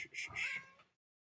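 A single cat gives a short, close meow of under a second, then silence.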